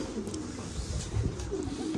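Racing pigeons at their loft and shed roof, with soft cooing and faint calls over a steady outdoor background hum, fairly close and continuous.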